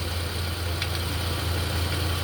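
A 2021 Toyota Camry engine idles with the hood open during an automatic transmission fluid check, giving a steady, even low hum with no speech.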